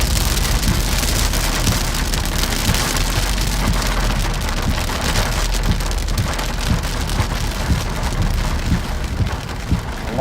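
Heavy thunderstorm rain pours steadily and loudly on a surface, a dense unbroken roar with a deep low rumble beneath, no voices.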